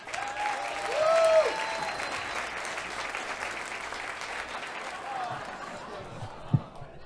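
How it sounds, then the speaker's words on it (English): Audience applause and crowd noise at a stand-up comedy special, sustained clapping across the whole stretch, swelling early with a whistle-like tone and a brief sharp peak near the end. "So come on up and give a round of applause for little Lawrence, everybody"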